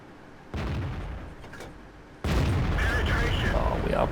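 A tank cannon fires in the World of Tanks video game: one loud, heavy boom breaks through quieter engine rumble and leaves a sustained roaring tail.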